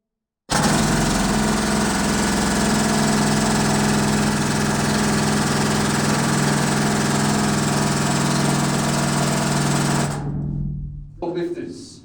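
A loud water-cooled pneumatic rock drill starts abruptly and hammers steadily for about ten seconds with a dense, harsh roar, then cuts off, leaving brief faint noise.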